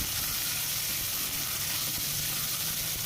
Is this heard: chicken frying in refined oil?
yes